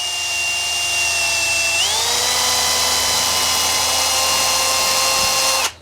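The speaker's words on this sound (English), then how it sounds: "I got a drill here with a 1/2-inch drill bit in it to enlarge the holes a little bit" A power drill fitted with a half-inch bit enlarges holes, a loud steady whine that drops in pitch partway through as the bit bites in, then runs on evenly before cutting off abruptly.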